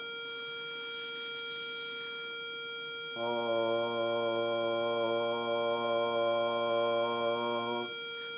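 A single steady pitch rings out, held for several seconds after a thin high tone, even and sustained like an instrument's tuning note.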